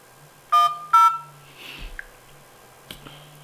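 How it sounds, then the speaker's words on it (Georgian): A telephone number is dialed on a phone keypad: two short, bright tone beeps in quick succession, followed by faint clicks and a soft blip. "აკრიბებს მაგი ტელეფონის ნომერი"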